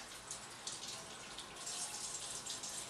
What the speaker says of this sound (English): I'm just going to rinse them off real quick in some cold water.